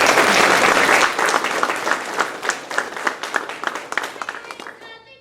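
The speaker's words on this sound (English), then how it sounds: "Let's give another round of applause to this cast right here." A theatre audience applauds after a performance of the Snow Queen, a dense burst of clapping that thins out into scattered individual claps and fades toward the end.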